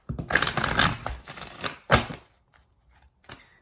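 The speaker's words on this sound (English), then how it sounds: "let's do 3 major shuffles" Crisp, rapid riffling of tarot cards, shuffled in a few bursts with short pauses between, close and fairly loud, then fading to quiet taps.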